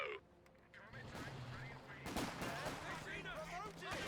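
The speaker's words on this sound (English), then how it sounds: "MG42 will go and suppress the Panzer Grenadiers" In Company of Heroes 2, an MG42 machine gun and other battle sounds rattle in quick bursts amid explosions and rumbling combat noise, fairly loud and dense, with occasional voices mixed in.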